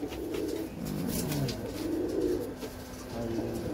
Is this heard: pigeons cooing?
yes